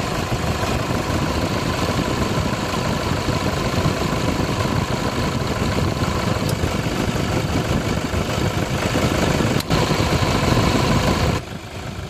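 A 2010 Toyota Hilux engine runs steadily after its air-conditioning compressor's magnetic clutch was repaired, a constant close idle rumble with no talking that drops off slightly just before the end.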